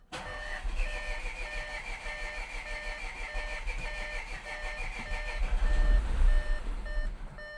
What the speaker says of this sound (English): It actually turns over